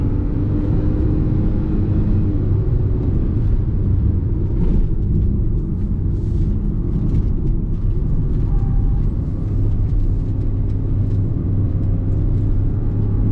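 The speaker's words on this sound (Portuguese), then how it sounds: "Tô aqui com o pé no fundo de novo." Hyundai Creta Platinum 1.0 turbo in Sport mode accelerating at full throttle, heard from inside as a steady, loud low engine and road rumble that holds constant throughout with no talk.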